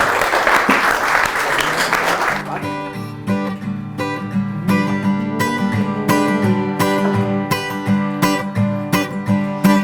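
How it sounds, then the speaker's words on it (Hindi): A live guest-house music audience claps in a loud burst for about two seconds, then the applause gives way to strummed, rhythmic instrumental music with sharp percussive accents. "एक बार जोरदार तालियां"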